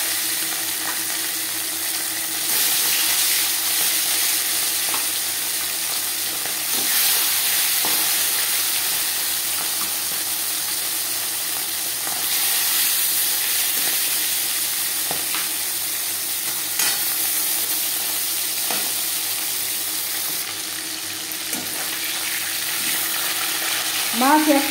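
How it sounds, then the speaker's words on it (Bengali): Marinated tilapia pieces fry in a few spoonfuls of refined oil, making a continuous close sizzle that swells in waves, with occasional faint clicks of a utensil against the pan. "সবার প্রথমে আমি মাছ ভেজে নেব।"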